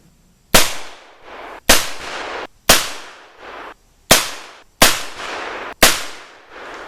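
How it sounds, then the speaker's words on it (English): Six sharp, loud shots from a Single Action Army revolver fired outdoors at a steady pace about a second apart, each crack trailing off in a short echo. "we're going to try the single action army now after shooting 24 rounds"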